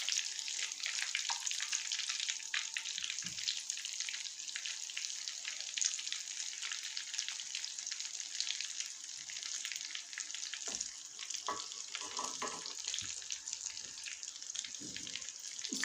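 Chicken drumsticks frying in a pan over low heat give a steady, close hiss and crackle throughout, with occasional faint clinks and stirring sounds.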